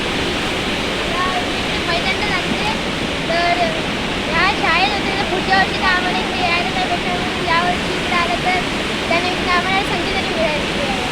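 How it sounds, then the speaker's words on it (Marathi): Waterfall, the Napne Sherpe falls: a dense, constant roar of falling water fills the scene up close, while voices talk loosely over the rushing noise. "उंचावरून पडणारा पाण्याचा प्रवाह ज्याला आपण शब्दसमूहाबद्दल एक शब्दमध्ये पाठ केलं होतं तो धबधबा आपण प्रत्यक्ष इथे बघतो आहोत"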